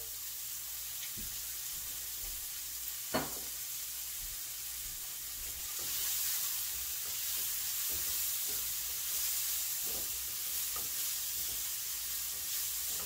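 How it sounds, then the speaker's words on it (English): Vegetables sizzle in olive oil in a pan for breakfast pizza, a steady broadband frying hiss with occasional scrape and stir clicks of a utensil, close and alone with no talk. "Just cook all the veggies a little bit"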